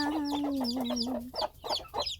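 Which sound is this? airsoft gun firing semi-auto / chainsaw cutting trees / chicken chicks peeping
chicken chicks peeping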